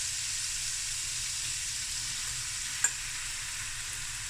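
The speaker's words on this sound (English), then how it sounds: "Now we're going to add the rice." Rice frying in a pan for a nigella and roasted seaweed rice dish, a steady soft sizzle with a faint hiss throughout and a single small click near the end.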